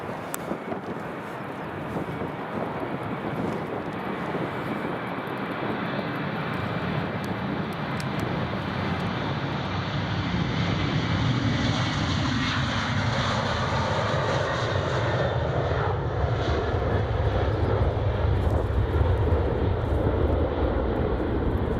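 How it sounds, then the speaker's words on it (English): A Ryanair airliner takes off from Edinburgh Airport, its jet engines building from a distant roar into a loud, sustained rumble with sweeping tone shifts as it climbs away. "another Ryanair just going now"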